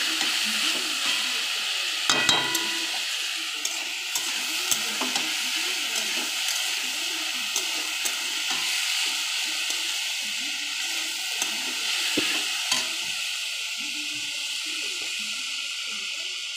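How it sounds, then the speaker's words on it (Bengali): Potatoes fry uncovered in a pan, giving a continuous loud sizzle with bubbling hiss and occasional clinks and scrapes of stirring, close by and steady throughout. "আলু ভাজাটা চাপা দেবো না, এমনি চাপা ছাড়াই ভাজবো"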